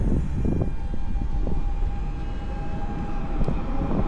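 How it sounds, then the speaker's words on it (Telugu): A train rumbles past beside a cycle path in Europe with a steady, heavy low roar and a faint high whine running through it, no voices. "కార్స్ పోతాయి, ట్రైన్ పోతుంది, కారు ట్రైను."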